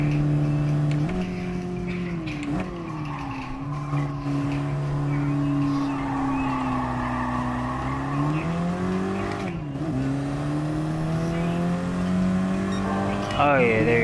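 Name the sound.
race car engine overtaking in Gran Turismo video game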